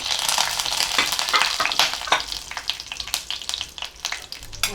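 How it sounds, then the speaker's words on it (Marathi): Cashews, almonds and raisins fry in hot ghee, giving a steady, close crackling sizzle with bright spitting pops throughout and no voices. "हे आपल्याला तळून घ्यायचं तुपामध्ये थोडेसे लालसर झाले की आपण काढून घेऊ"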